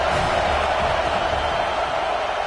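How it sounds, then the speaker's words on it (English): A football stadium crowd roars and cheers in a dense, steady wall of noise that holds at the same loud level throughout, with no clear single voices standing out. "This crowd bringing the energy and noise early."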